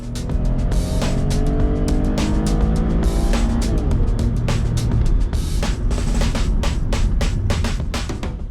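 A Holden Captiva accelerates from a standstill to 100 km/h, its engine note climbing through several gear changes with repeated rising sweeps, steady and fairly loud from inside the car.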